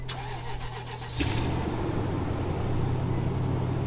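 A car engine cranks and catches about a second in, then settles into a steady, rumbling idle close to the microphone.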